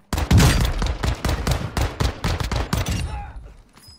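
Pistol fire in Call of Duty Warzone 2.0, a quick string of sharp close shots in rapid rhythm for about three seconds, then tailing off into quiet.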